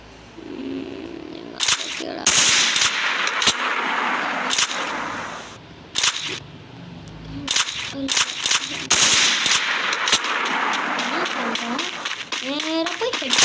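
Gunfire from a shooter video game, including sniper shots, comes as loud sharp bursts and rapid volleys spread across the span, with pauses between, under a steady game background.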